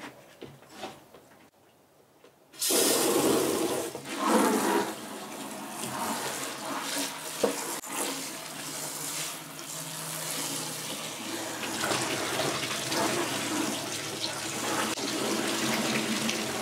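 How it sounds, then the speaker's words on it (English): Pressurised water spray running steadily through a sieve to separate hash resin from plant material, a continuous close hiss like a running tap that starts abruptly after a quiet moment and carries on with occasional small ticks. "I use the pressure of the water to separate the grain"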